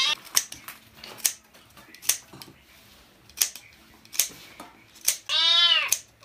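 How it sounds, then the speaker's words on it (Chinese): Cat meowing outdoors near people cooking eel and lettuce: several short, sharp meows at irregular intervals, close and fairly loud, ending in a longer drawn-out meow. "小猫咪，你叫蘑菇嘛？想吃啊？"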